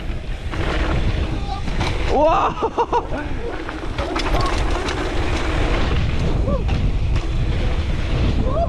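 Heavy wind buffeting the microphone during downhill mountain biking near Cape Town, a loud constant low roar with gusts, while a voice shouts briefly over it.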